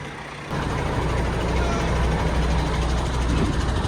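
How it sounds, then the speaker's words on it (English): Heavy lorry engines rumble steadily as grain lorries pull into a farm shed during oilseed rape intake, a loud continuous drone starting abruptly after a brief quiet moment, with a faint reversing beep. "We've got lots more lorries coming in now continually."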